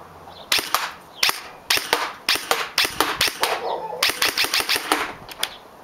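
Rapid sharp cracks from an airsoft Noveske SBR electric gun fired on semi-auto, close and loud, in quick irregular single shots and short clusters of two or three.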